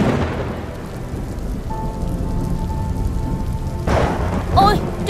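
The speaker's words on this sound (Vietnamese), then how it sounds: "Ôi, trời mưa rồi." Steady rain pours throughout, close and constant, with a faint tone in the middle and a brief louder rumble near the end.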